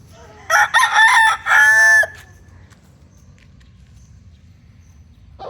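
A young McLean x Miner blue rooster, under five months old, crows once, a strained, slightly breaking call lasting about a second and a half, close by, followed by quiet background hum.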